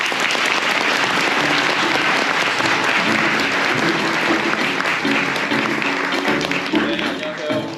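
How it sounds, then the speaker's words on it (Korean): An audience at a startup demo day keynote breaks into sustained, dense applause as the speaker is welcomed, steady and loud throughout with some voices mixed in. "힘찬 박수 부탁드립니다."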